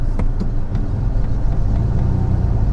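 A car engine runs steadily as the clutch is let out in first gear and the car starts to roll, a low continuous rumble with slight surges, fairly loud and close, no talking.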